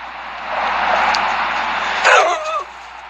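A dog barks and yips in one sustained, loud, close outburst that ends in a rising whimpering whine.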